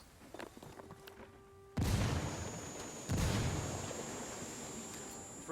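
Frag grenade blasts in Ghost Recon Wildlands, two heavy booming explosions about a second apart with a rumbling tail, after a quieter stretch of light footsteps and movement.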